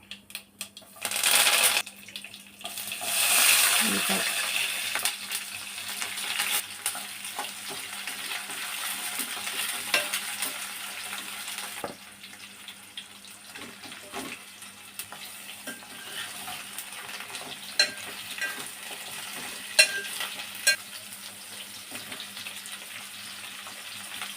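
Mustard seeds, cumin and curry leaves crackle and sizzle in hot oil at the start of an eggplant and drumstick curry, with bursts of popping and a continuous frying hiss plus occasional light stirring clinks.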